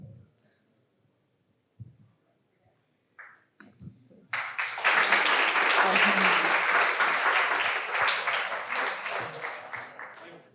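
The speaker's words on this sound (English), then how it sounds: "Oh, the clapping" An audience at a talk on EEG and psychedelic research breaks into applause after scattered small taps and near-silence, a dense steady clapping that keeps on for several seconds and then tapers slightly.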